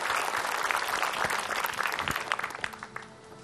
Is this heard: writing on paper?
no